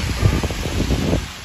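Strong gusting typhoon wind from Typhoon Kompasu's outer circulation, during a storm in Hualien that toppled roadside trees, roars and buffets close to the microphone in an unsteady, rumbling rush.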